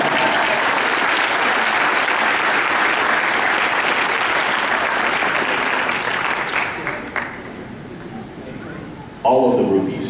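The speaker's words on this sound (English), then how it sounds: "Give her a round of applause." Audience at a cosplay contest applauding loudly, dense sustained clapping that fades after several seconds before a voice starts speaking near the end.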